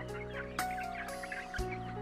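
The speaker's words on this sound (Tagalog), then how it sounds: "RR rooster yan." Clucking from RR roosters, brown egg-layers kept among ducks and other fowl at a family compound, comes in short bursts over a steady low hum and carries on for about two seconds.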